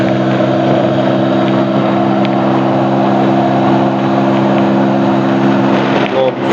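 Steady engine drone of a Mondial SFC 50 motorcycle in fourth gear, with strong low harmonic bands, running continuously at an even pitch throughout, loud and close, with wind rush over it.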